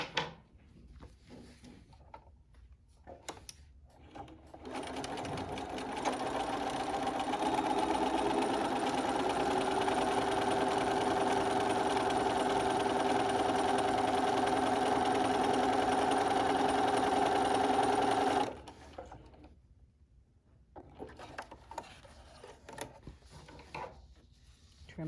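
A sewing machine stitches a fitted fabric face mask in one steady, continuous run lasting about twelve seconds, loud and close, with quiet handling sounds before and after.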